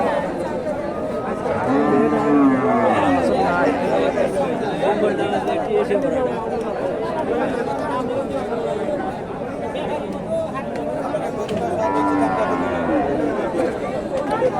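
Holstein Friesian cattle low now and then over a busy crowd murmur and chatter at Hasokhali cattle market in Bogura, with deep moos rising at intervals.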